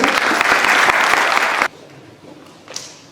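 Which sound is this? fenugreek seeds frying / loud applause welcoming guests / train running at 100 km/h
loud applause welcoming guests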